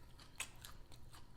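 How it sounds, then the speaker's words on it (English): Crunchy bites into a grinder sandwich with potato chips, a few faint, quick crackling crunches spaced irregularly and heard close with no talking. "That juice, that crunch from that chip."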